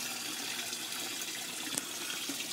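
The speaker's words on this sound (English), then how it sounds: "the water comes in the back, and then it flows down using gravity through these little PVC right here." Water in an aquaponics IBC tote system, a 275-gallon fish tank holding tilapia, goldfish and carp, runs by gravity through small PVC pipes with a steady, close, unbroken splashing flow and no voices.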